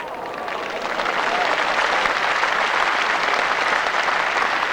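Crowd at the 1984 World Singles bowls final between Peter Belliss and Willie Wood breaks into steady, sustained applause for a well-placed bowl, a dense continuous roar of clapping throughout.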